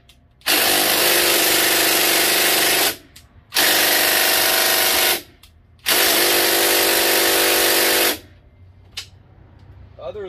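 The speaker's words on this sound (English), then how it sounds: "I've never used this Bauer impact gun on anything" A Bauer impact gun hammers on a rear brake part of a Honda Odyssey FL350, firing in three loud, sustained bursts of about two to three seconds each, separated by short pauses, close up with no talking.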